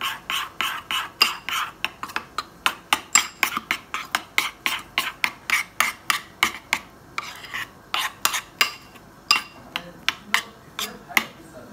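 A spoon stirs a strawberry dessert in a dish, knocking and scraping in a fast, regular run of sharp clinks, close and distinct, pausing once briefly midway before carrying on.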